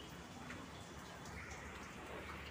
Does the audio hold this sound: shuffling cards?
no